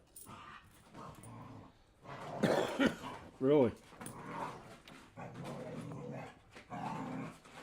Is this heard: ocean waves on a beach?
no